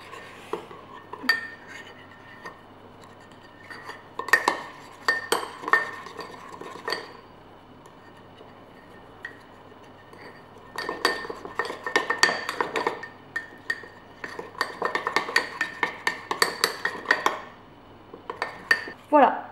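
A spoon scrapes and clinks repeatedly against a bowl while a rice-based skin-whitening paste is mixed, coming in bursts of quick taps and rattles separated by quieter stretches.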